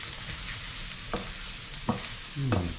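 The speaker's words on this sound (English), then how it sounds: "we're just going to mix it with the garlic and the onion" Arborio rice frying with garlic and onion while being stirred, giving a continuous close sizzle broken by a few scraping strokes of the spoon, with a louder scrape near the end.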